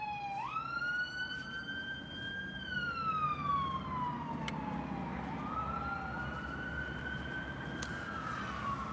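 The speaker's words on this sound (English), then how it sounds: "got them sirens going off," An emergency vehicle siren wails in the distance, its pitch rising and falling in slow sweeps over a steady hum of ambient noise.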